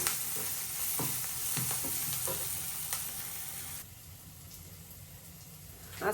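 Onion and green chili fry in a pan with a bright close sizzle and several sharp stirring scrapes, before the frying drops to a quieter hiss.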